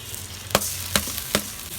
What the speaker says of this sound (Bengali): এই যে পেঁয়াজটাকে আমি একটু হালকা করে ভেজে নেব তারপরে কিছুক্ষণ পর আমি চালটা দিয়ে দেবো